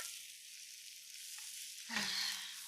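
Mushrooms frying in a pan for a teriyaki quinoa bowl, a steady close sizzle that swells louder near the end as if stirred or newly added.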